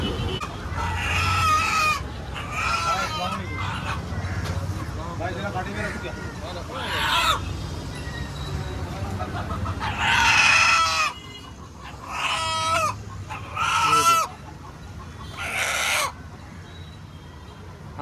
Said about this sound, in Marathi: इकडे गावठी कोंबडे आहेत